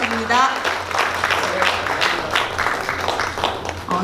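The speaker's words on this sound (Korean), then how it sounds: "큰 박수 부탁드립니다" An audience at a formal Korean lecture event applauds, with dense, sustained clapping filling the room and a voice briefly heard at the start.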